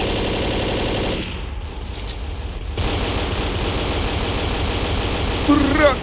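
Shotgun fire in the video game Left 4 Dead, with heavy, rapid blasts crowding together in the first second, then further bursts of gunfire and game noise after a brief lull.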